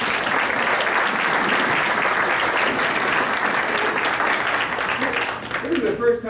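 Audience applause at an atheist humanist conference talk, a dense, steady clatter of many hands filling the hall, sustained and loud before tapering off near the end.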